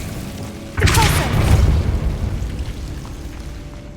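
A Depulso spell cast in the video game Hogwarts Legacy lands as a single loud booming burst with a sharp onset, then a rumbling tail that slowly fades away.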